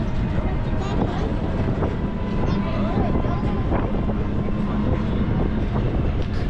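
Rickshaw ride through busy Delhi streets, a constant rumbling road and wind noise with scattered horn-like tones and street clatter throughout.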